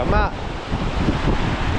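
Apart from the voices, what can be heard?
strong wind blowing on a beach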